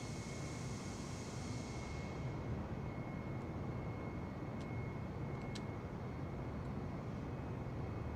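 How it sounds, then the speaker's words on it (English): Steady, even roar of an Airbus airliner's jet engines in a flight simulator game, a constant broadband hum with a high whine above it, with a few faint clicks partway through. "There we go. The Airbus."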